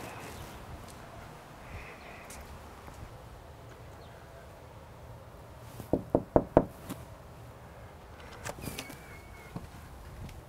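Someone knocks on a front door, a quick run of four sharp raps heard at moderate distance in a quiet home, followed by a few fainter taps.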